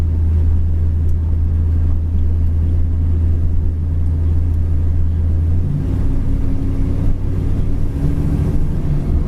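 A 1964 Chevrolet Impala SS with a big block cruises at about 35 mph, heard from inside as a steady low engine drone and road rumble with some wind noise, without talking.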